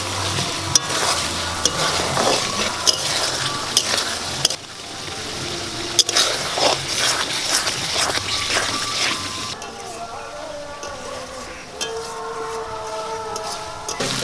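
Water with washed spices hits a hot pan of mutton curry, giving a loud, continuous sizzle with stirring clatter. The frying hiss rises and falls for several seconds, with sharp scrapes and knocks from the utensil.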